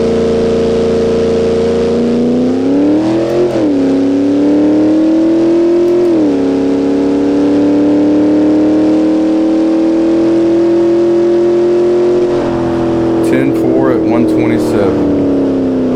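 Dodge Dakota R/T truck engine held at the drag strip line on the trans brake, a loud steady drone with two quick revs, then rising in pitch as it builds, with faint crackles near the end and no speech.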